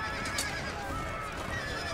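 A cavalry horse of the horse grenadier guards whinnies in the Napoleonic-era strategy game Empire: Total War, a quick neigh standing out over a dense, constant battlefield din with no talk.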